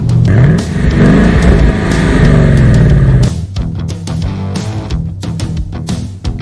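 Ford Mustang Bullitt with a 460 hp engine revving loudly up close, a sustained rising roar for about three seconds that drops to a lower, burbling idle with sharp exhaust pops.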